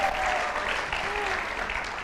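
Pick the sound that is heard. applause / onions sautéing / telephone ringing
applause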